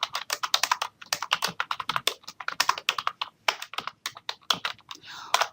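Fast typing on a computer keyboard in a word processor: dense bursts of crisp, close key clicks with short pauses between words and phrases, clear and unaccompanied by speech.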